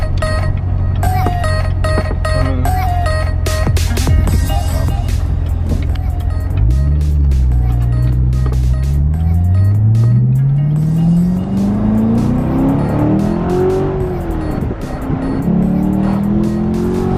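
A Ford Mustang GT350 engine revs hard, close and loud, its pitch sweeping up and falling back through repeated climbs, with tire noise and no talk over it.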